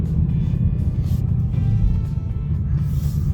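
A 2020 Ford Mustang GT rolls over a rough gravel road, its low engine rumble and tire noise steady and close throughout with no voices.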